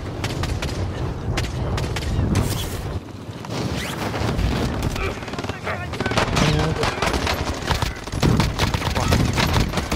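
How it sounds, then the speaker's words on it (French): Dense, sustained gunfire in the battle royale video game Call of Duty Warzone, rapid automatic bursts and shots layered continuously across the whole stretch, loud and busy, with a voice talking now and then beneath the firing. "Je vais tirer là."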